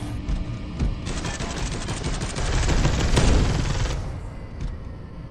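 Gunfire in the video game Space Hulk: Deathwing shatters screens, a dense sustained burst of rapid shots building louder in the middle and then cutting off, leaving quieter ambience with no speech.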